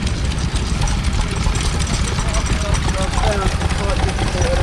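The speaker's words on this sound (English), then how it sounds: "There's a Lister D. Right. And that's powering some sort of generator set." A Lister D stationary engine runs a generator set at a rural show, a loud, close, steady low chugging with rapid regular beats, with people talking over it.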